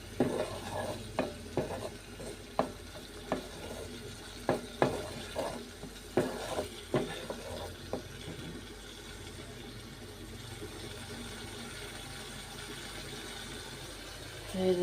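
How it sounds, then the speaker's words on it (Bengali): Dried fish and prawns being sautéed in a pan, with repeated scraping stir strokes over a steady sizzle and frying hiss; the stirring is busy at first, then settles into a quieter, continuous fry. "শুটকি চিংড়ি মাছ আগে একটু কষা নিতেছি"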